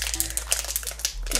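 Plastic packets holding Skrepyshi collectible toys crinkle and rustle as they are torn open by hand, a close, busy crackling that lasts a moment or two.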